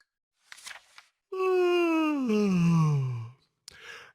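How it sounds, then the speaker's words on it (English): A loud, drawn-out yawn that slides downward in pitch and sits alone in quiet, framed by brief breathy stretching sounds before and after. "He stretched and yawned loudly."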